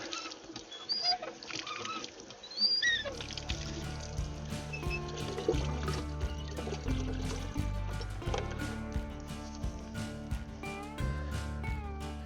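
Water pours and trickles from a repaired well pump, a steady splashing flow that runs loudly for several seconds with no talking.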